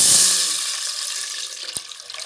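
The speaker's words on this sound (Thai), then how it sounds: "เหลืองแล้วก็ใส่น้ำลงไป" Water pours into a pot of garlic and coriander root fried until golden, a loud rushing splash at first that settles into a softer bubbling hiss, close up with no speech.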